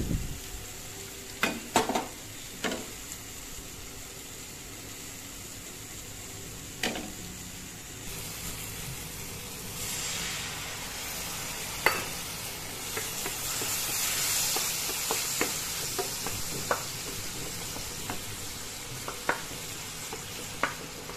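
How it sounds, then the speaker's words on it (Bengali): Tomato cooking in a pan with turmeric, cumin and chili powder, giving a low continuous sizzle with scattered spatula scrapes and clicks that grow busier partway through. "তো এই মশলাটা দিয়ে কিছুক্ষণ কষিয়ে নেব টমেটোটা"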